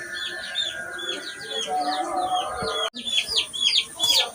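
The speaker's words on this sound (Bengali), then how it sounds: "আর কণিকা যাচ্ছে একটু মুরগিগুলো ছেড়ে দিতে" Chickens in a Sundarbans village give a steady run of bright, repeated clucks and chirpy calls, fairly close and moderately loud over a faint outdoor background, with a brief dip in the middle.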